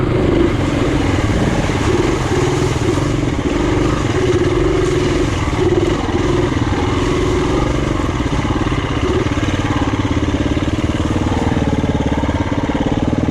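A KTM 350 four-stroke dirt bike riding through Ohio woodland trails holds a loud, steady engine drone in one gear, close and continuous with only slight shifts in pitch and no talking.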